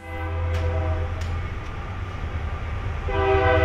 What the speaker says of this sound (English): Oh my God, the train.